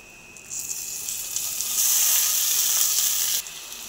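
Whole spices crackle in hot oil, then ground spices and ginger paste go in and the hiss steps up to a louder, dense sizzle. It holds steady before dropping back slightly near the end.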